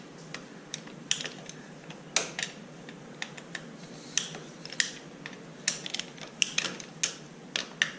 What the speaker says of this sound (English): loosen all of the 8mm bolts that hold that cover on